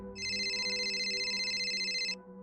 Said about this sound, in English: And the phone rang.